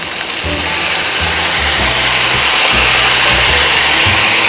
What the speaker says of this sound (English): we're gonna deglaze the pan with Marsala cooking wine